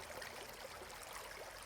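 Water slowly emptying from an upturned bottle, a faint, continuous trickling and gurgling with no voices.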